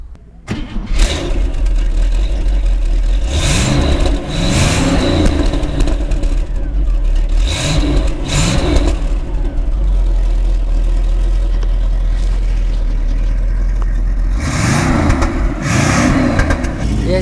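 A 1961 Cadillac Fleetwood Sixty Special's 6.4-litre V8 idles with a deep rumble and is revved repeatedly, several rising-and-falling throttle blips spaced across the stretch, loud and close.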